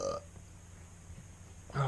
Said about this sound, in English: Literally every video I keep burping so much.